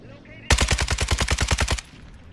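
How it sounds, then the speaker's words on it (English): An RPK machine gun fires a rapid burst of about a dozen sharp, evenly spaced shots in the Warzone 2 video game, loud and close, with quiet game ambience before and after. "I'm shooting this RPK, RPK build to see what it was like."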